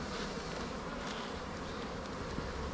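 Angry honeybees buzzing at an opened hive during an early spring inspection, a dense, continuous, close swarm drone with no talk.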